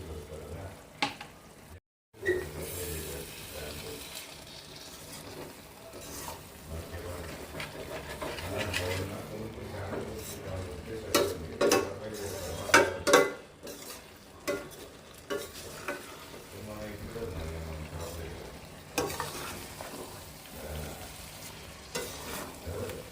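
Chicken frying in a pan with spices for a spicy chicken fry, sizzling steadily throughout and broken by occasional stirring scrapes and clinks, with a voice talking now and then over it.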